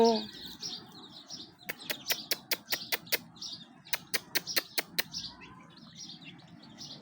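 Pigeons call and coo at a distance while sharp, rhythmic clicking bursts repeat in quick runs; a voice speaks briefly at the start.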